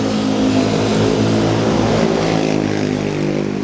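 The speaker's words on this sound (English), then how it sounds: "These mopeds out here loud as hell." Loud, steady engine drone with rumbling low tones from mopeds revving nearby in Thailand, continuous throughout with no talking.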